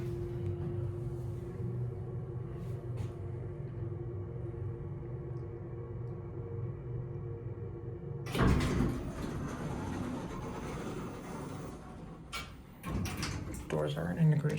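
The worn doors of a Minnesota hydraulic elevator at a Macy's slide with a low rumble over a steady hum, then bang and rattle as they move, with a few more knocks near the end.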